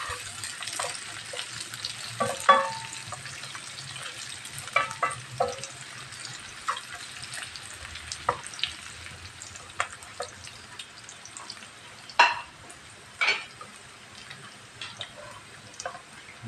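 Garlic and ginger frying in a pan for spiced basmati butter rice, a steady low sizzle with scattered clinks and scrapes of stirring throughout, moderately close and without talk.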